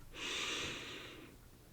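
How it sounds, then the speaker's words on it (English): A single long, deep inhalation through the nose during a guided meditation, close and soft, a steady airy rush that swells quickly and then slowly fades, with no talking. "Take a deep breath in"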